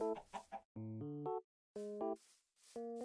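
Chickens clucking in Minecraft: short, tonal clucks come in quick clusters of two or three with brief silent gaps between them, clear and close, with no talking.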